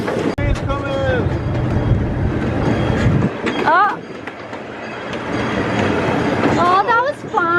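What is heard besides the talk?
train ride, train running on rails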